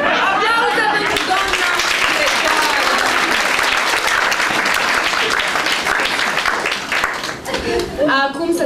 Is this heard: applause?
yes